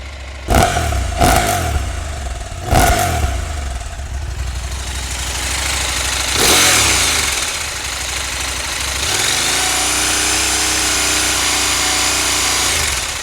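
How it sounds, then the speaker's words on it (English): A 2023 KTM 890 Adventure motorcycle with stock exhaust starts with a few sharp cranks and bursts, then settles into a steady idle with a thin, flat exhaust note. "I'm going to fire it up. And what I want you to listen to is the exhaust."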